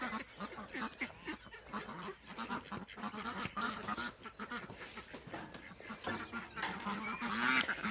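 A male and two female Blanc de l'Allier breeding geese honk repeatedly and overlapping at close range on a farm, a loud, continuous chorus with no talk.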